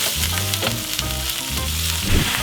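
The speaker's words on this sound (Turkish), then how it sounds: "Şöyle koyduğumuz zaman bu cızırtıyı duyacak tencereye." Lamb meat sizzles loudly in a hot pot as it is seared, a dense crackling fry that runs steadily without talk.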